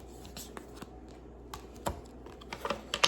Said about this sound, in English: Let me wrap these cards up.